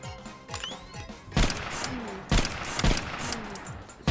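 Gunfire in the VR game Compound, several loud, sharp shots spaced about a second apart over fainter clattering and background game sounds.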